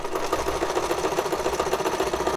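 A small sewing machine runs steadily at high speed, a dense rapid mechanical whir and clatter close by, continuous until it stops abruptly at the end.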